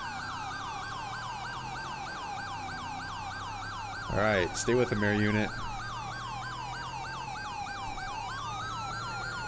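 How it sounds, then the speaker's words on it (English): A wailing police siren in the game mod LSPDFR cycles steadily throughout, joined briefly by a second siren and engine noise in the middle, with a voice speaking over it. "I hear sirens coming up behind me real fast."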